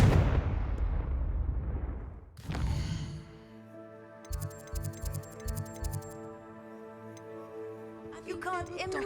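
A heavy rumbling blast from the Confringo blasting curse spell in Hogwarts Legacy fades over a couple of seconds, followed by a sharp swoosh. Rapid ticking clicks and sustained tones from the game carry on afterward.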